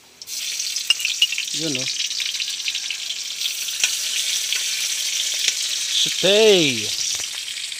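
Onions frying and sizzling in a pan during home cooking, a steady hiss running throughout with stirring noises, while people talk briefly nearby.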